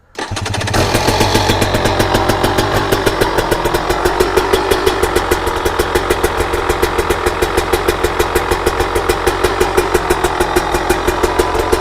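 A KTM, Husqvarna or GasGas throttle-body-injected two-stroke motorcycle engine idles fast and loud after a brief start, its rapid, steady pulsing holding an even, raised pitch throughout.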